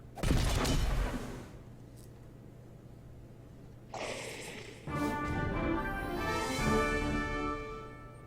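Gunfire in the Monster Legends game, a loud opening burst followed by a short blast and then a sustained noisy volley with ringing, metallic effects.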